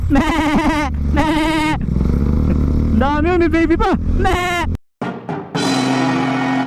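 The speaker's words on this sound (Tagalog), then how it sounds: "Yun, dami kambing." Several goats bleat loudly up close in wavering cries, one after another, while someone speaks briefly.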